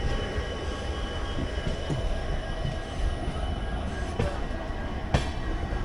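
The Haripriya Express, a sleeper-class Indian Railways train running from Belagavi to Hubballi after leaving Londa, gives a steady, loud rumble on the rails, with a few sharp clanks near the end and no voices.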